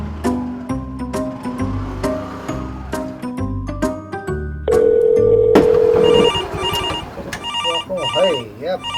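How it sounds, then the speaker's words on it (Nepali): A telephone ringtone sounds in a Nepali comedy serial scene, first over background music and then as a steady, prominent ring lasting a couple of seconds. "है यहाँ फोन पनि कसको आउँछ।"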